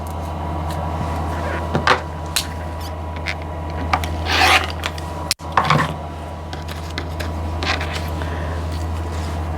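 Quilt fabric pieces are cut in half, two at a time, with scattered short crisp cuts and rubbing sounds over a constant low machine hum, close and without talk.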